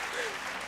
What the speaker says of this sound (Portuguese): Então, vamos aplaudir as garotas mais uma vez.